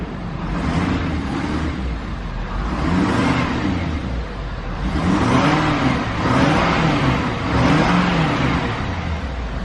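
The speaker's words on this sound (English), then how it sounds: "We'll give it a few revs." A car engine revs repeatedly, rising and falling in several loud surges over a steady idle, close to the listener.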